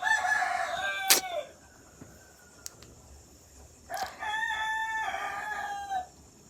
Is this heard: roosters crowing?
yes